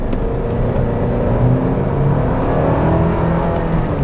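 A 2025 Toyota 4Runner Limited's small four-cylinder engine revs steadily under acceleration, a droning, somewhat buzzy hum that holds fairly loud throughout, with no talking.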